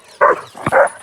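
Two quick, close barks from a dog on a farm, loud and sharp with a short gap between them.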